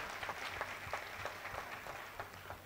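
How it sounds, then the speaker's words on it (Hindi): Faint applause from a concert audience for the musicians on stage at a music show, a soft, even spatter of clapping heard from a distance. "हमारे मंच पर उपस्थित सभी काबिल सासिंदों के लिए तालियों की एक बहुत जोरदार गूंज।"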